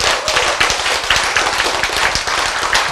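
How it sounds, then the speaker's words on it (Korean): Audience clapping in a lecture hall, a run of sharp, fairly loud claps with an uneven rhythm that carries on throughout. "박수가 안 나오더라도 어떻게 자꾸 쳐야 돼"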